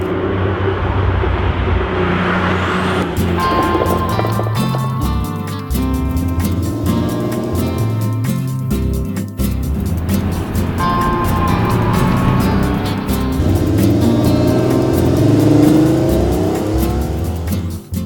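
A 1978 Porsche 930 Turbo with the first 3.3-litre engine drives hard, its loud flat-six growl rising and falling through gear changes, with some tyre noise and no talk over it.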